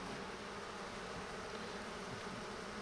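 Honeybees in an agitated hive produce a faint, continuous, even buzzing drone that holds steady throughout with no talking.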